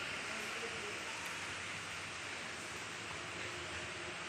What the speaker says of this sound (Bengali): আসলে এখনও বৃষ্টি পড়ছে